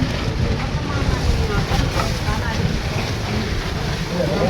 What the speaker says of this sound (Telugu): బండినే ఊపేస్తుంది గాలి.